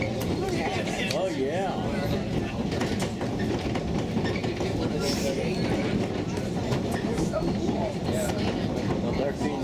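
Train rolling steadily along rails on the Ffestiniog Railway near Porthmadog, Wales, a continuous loud rumble with rhythmic wheel clatter throughout, while people talk over it.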